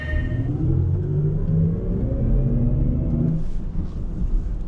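A BMW iX M electric car launches hard off the line, a loud continuous rumble with rising whine tones that swells for a few seconds and then fades into road and wind noise, no voices.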